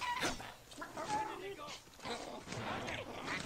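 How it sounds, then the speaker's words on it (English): A chicken in a video game clucks repeatedly in short bursts, moderately quiet, mixed with a busy background of other game noise and voices. "Don't you ever hit my damn chicken."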